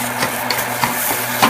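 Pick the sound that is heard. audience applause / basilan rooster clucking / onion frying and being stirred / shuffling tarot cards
onion frying and being stirred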